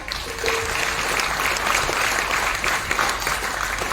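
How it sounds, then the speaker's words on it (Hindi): Audience applause at a business seminar, a steady wash of many hands clapping together for several seconds, moderately loud and even throughout. "मैं चाहूंगा उनके सम्मान में भी जोरदार तालियां"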